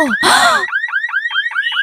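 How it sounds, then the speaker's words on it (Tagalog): An alarm blares loud and close with rapid, repeating upward-sweeping electronic tones in a fast, steady cycle, starting after a brief burst of noise. "Girls, yung alarm!"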